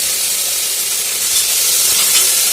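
Curry masala with curry leaves frying in a pan for a home vegetable curry, a loud, continuous close-up sizzle and hiss of hot oil with no talking.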